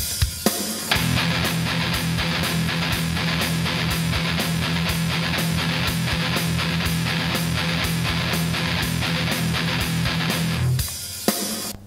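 Distorted metal guitar chugs out a galloping rhythm over a drum machine beat, dense and loud, the tight repeating gallop pattern driving steadily for about ten seconds.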